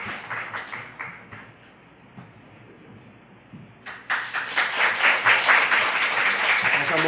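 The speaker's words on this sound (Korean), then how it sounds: "다시 한번 큰 박수로 환영해 주시고 축복해 주시기 바랍니다" A congregation applauds at a Korean church Sunday service in Osaka, starting with scattered claps and then swelling into loud, sustained clapping.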